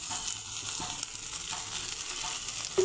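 Fish sizzles and fries steadily in hot oil in a pan, a dense, even crackle running throughout at close range with no voices.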